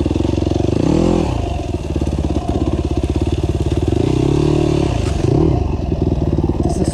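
Gas Gas EC250F enduro motorcycle ridden on a dirt trail, its engine loud and close with steady buzzing drone, brief throttle swells and drops, and light clatter from the bike over rough ground.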